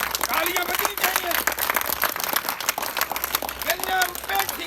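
Studio audience applause and clapping at a Hindi comedy show greet a performer's entrance, a dense, steady patter running the whole time beneath a loud announcer's voice.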